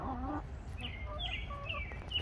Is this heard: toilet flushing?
no